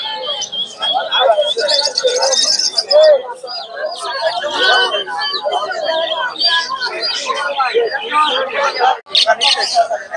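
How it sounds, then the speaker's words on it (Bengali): Lutino cockatiels call at a busy poultry market in Bhairab, their bright chirps and whistles steady and close beneath a constant babble of crowd voices. "cockatiel lutino cockatiel"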